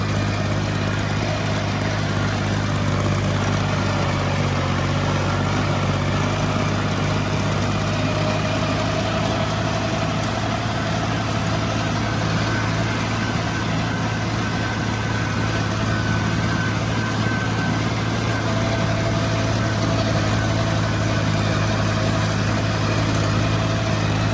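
A Kubota B7200 compact tractor engine runs steadily while mowing a six-foot-tall field with a rotary cutter, a loud, constant close drone with a low rumble throughout.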